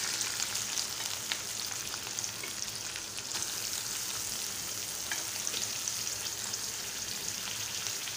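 Curry leaves, green chillies and onion frying in hot oil for a vegetable dish, giving a steady, close sizzle that holds through the whole stretch with scattered crackles and no voices.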